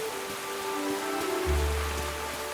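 Steady rain falls in the cozy game Tales of the Shire, a continuous even patter on surfaces with a low rumble joining partway through, heard alone without voices.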